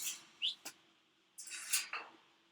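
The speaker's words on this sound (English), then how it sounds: "say goodnight to the parrot, guys." A pet parrot calling indoors with a few faint, brief chirps and a short squawky burst, spaced apart over low background hiss.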